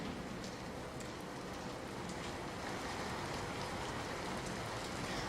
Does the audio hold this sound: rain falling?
yes